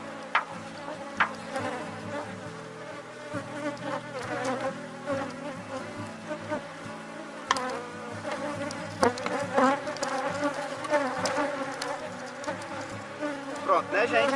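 A honeybee swarm buzzes densely around an open hive box during a colony split, a continuous layered hum with many individual bees droning close by and occasional louder passes near the microphone.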